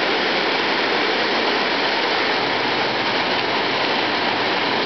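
Torrential floodwater races past after heavy rain in Heber Springs, Arkansas, a loud, steady broadband roar of rushing water that fills the whole stretch without letup and with no voices.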